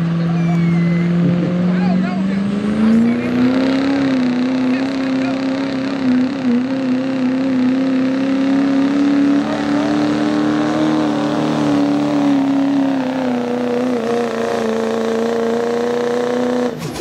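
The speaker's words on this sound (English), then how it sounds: "Bringing up the RPM" Diesel 4x4 truck engine revving at a street pulling event, a loud, close, rising roar that climbs to high RPM and holds steady for many seconds, with a voice talking over it.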